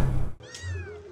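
A cat lets out a single drawn-out meow, close and clear, with a rising then falling pitch, following a brief pause in low background rumble.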